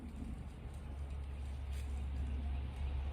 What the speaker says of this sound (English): Another noisy truck.